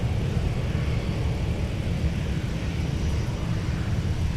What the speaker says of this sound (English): The 320 workhorse of Delta Airlines and a lot of U.S. carriers are.